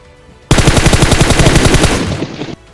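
A burst of MK14 rifle fire in the PUBG Mobile battle royale game, a rapid string of about twenty loud close shots in quick rhythm lasting around two seconds before cutting off abruptly.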